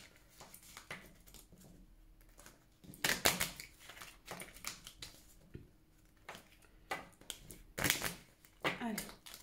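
Oracle cards are shuffled by hand in several quick, crisp riffling bursts with softer papery shuffling between them, close and fairly quiet.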